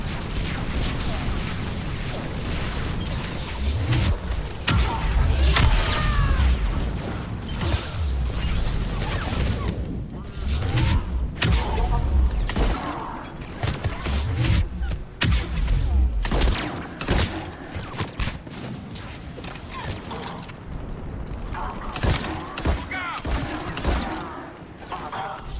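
Explosions and heavy weapons fire rage through a hot landing zone in Mass Effect 3, with deep booms and bursts of gunfire running continuously under spoken dialogue and mechanical clatter.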